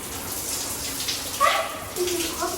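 Sensory shower in tropical rain mode, a steady broadband hiss of falling water that runs continuously with slight surges and no talk.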